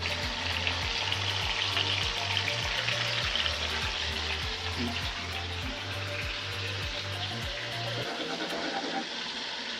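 Three tandoori chicken leg pieces sizzle in a pan over medium flame, a loud continuous spattering fry with a low rhythmic hum beneath, lasting nearly the whole stretch before cutting off at the end.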